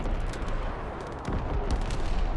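An artillery battery fires in Call of Duty WWII, producing a series of sharp, rapid booms and cracks layered over dense battlefield din, close and fairly loud throughout.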